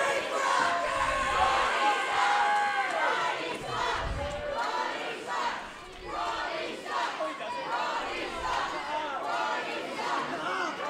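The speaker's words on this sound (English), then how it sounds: "this partisan Ryse crowd that has jam-packed this building once again this month wants to see Tag Jarvis" A packed wrestling arena crowd roars and shouts without pause, dense cheering and battle cries swelling and dipping slightly, loud and close throughout.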